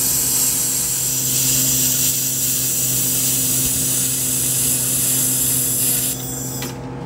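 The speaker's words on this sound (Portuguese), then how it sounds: "Vamos tentar soldar então, alumínio com alumínio." ZUMAQ laser welder joining aluminium to aluminium, a steady hissing, whirring machine drone with a constant hum that holds for several seconds before the high hiss cuts out near the end.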